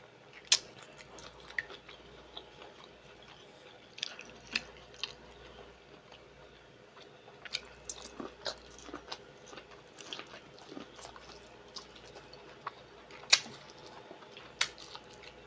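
Close, quiet chewing of mussels and clams without sauce at a mukbang, with soft wet crunches and bites scattered irregularly across the stretch, a few sharper clicks standing out, and no talking.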